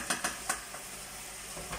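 Chicken adobo being stirred in a pan, a few sharp utensil scrapes and clinks near the start over a faint, soft sizzle, quiet and close.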